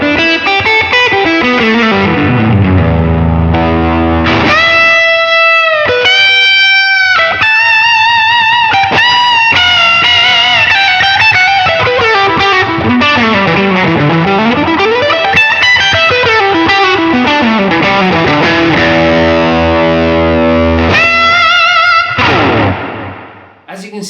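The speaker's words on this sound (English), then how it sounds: "with the help of this green tea bridge humbucker, it can also give you those crunchy and saturated tones" A PJD Carey Standard electric guitar played through its Green Tea bridge humbucker gives a crunchy, saturated, distorted tone, with loud chords, sliding notes and bends close up, ending in a fade.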